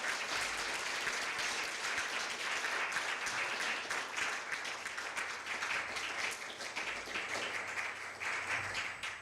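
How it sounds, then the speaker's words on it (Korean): Audience applause at a Korea University law school award ceremony, a dense, continuous round of clapping from a seated crowd in an indoor venue, steady and moderately loud throughout. "큰 박수 부탁드립니다"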